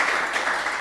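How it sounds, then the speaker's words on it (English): Audience applause for the panelists at a conference on democracy, a short, even wash of clapping from a seated crowd, fairly close and steady. "Please, everyone, give a round of applause for our dear panelists."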